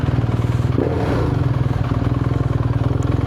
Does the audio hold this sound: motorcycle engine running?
yes